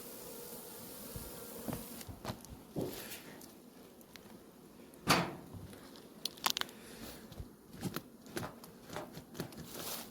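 Buckfast honeybees humming around an opened hive, a soft, continuous buzz with individual bees passing close, mixed with faint rustles and clicks from handling frames, quiet overall and with no speech.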